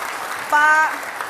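The studio audience at a televised Jakarta gubernatorial election debate gives a short round of applause, brief and mid-level, with a thin whistling tone over it.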